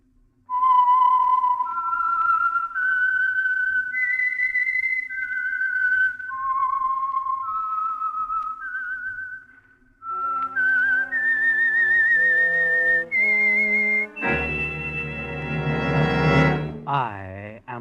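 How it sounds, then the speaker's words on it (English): A whistled theme tune for the Signal Oil radio program, a clear, loud melodic whistle gliding between sustained notes, followed by a brighter orchestral flourish that swells and ends in a full, noisy burst. "the signal to listen for is this whistle that identifies the Signal Oil program"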